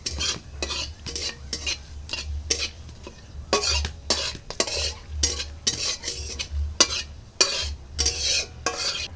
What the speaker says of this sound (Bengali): ফোড়নটা একটু ভাজা করে নেব।